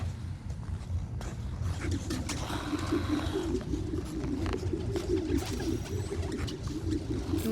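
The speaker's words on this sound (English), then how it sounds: "There's a lot of birds around here." Pigeons coo in a repeated, low, soft rhythm in a city setting in Spider-Man: Miles Morales. The coos sit over steady ambient hiss and faint taps, with a brief higher chirp midway.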